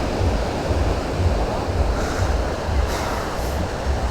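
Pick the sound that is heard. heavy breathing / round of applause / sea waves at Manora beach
sea waves at Manora beach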